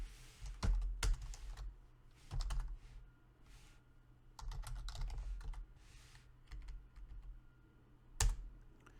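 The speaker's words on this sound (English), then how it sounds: "So here you have to type S." Someone types on a computer keyboard in irregular bursts of close, clicky keystrokes separated by short pauses, with a few harder single taps standing out.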